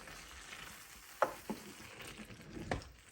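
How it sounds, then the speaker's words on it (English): Canned tomatoes being stirred into a turkey chilli in a pan give a soft, steady sizzle, with a few gentle knocks of the spoon against the pan. "I can at least dump the tin of tomatoes in and stir them in"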